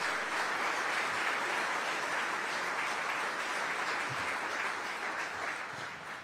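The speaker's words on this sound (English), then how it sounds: "Let's give them a rousing round of applause" Town audience at an Aurora city address gives police and fire personnel a rousing round of applause, a loud sustained wash of clapping throughout, fading slightly at the end.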